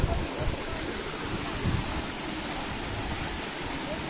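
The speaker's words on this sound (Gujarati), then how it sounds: "બહુ સરસ પાણી આવેલું છે એકદમ ધાર" Water rushes strongly along a canal near the villages of Tharad, Gujarat, a dense, continuous roar of flowing water that stays steady and close throughout, with faint low rumbling underneath.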